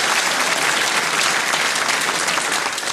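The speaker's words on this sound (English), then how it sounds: "Oh, round of applause for that." Comedy audience at an Al Murray stand-up show breaks into loud, dense applause that holds steady and close for the full three seconds, with no talking over it.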